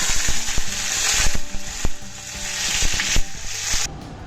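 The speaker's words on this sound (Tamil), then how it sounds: "கடுகு பாருங்கள் கொட்ட ஆரம்பிச்சிருச்சா" Mustard seeds crackle and pop in hot oil while the tempering for a dal rasam starts, a loud, close sizzle with dense rapid spluttering bursts that stops abruptly at the end.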